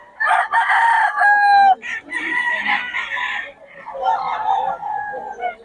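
A sweater bull stag gamecock crows loudly and close, one long drawn-out call followed by further rough crowing and clucking sounds.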